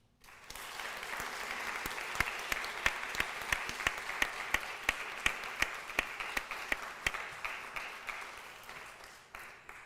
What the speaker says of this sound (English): Please give our new surgical technologist a round of applause